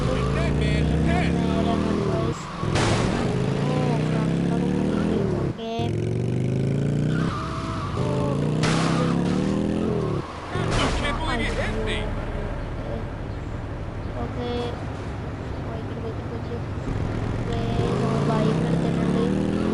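A car is driven in a video game, its engine loud and close with revving that rises and falls and a few sharp gear-shift breaks. Someone talks casually over the engine throughout.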